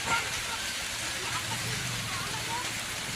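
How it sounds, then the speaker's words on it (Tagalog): Steady, heavy rain roars without pause, a dense wash of noise with gusting wind and faint voices in the background. "Lakas ang ulan, lakas ang hangin."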